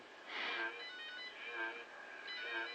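A telephone rings in another room in a film, three muffled bursts of electronic trilling separated by pauses, faint and distant over a quiet background.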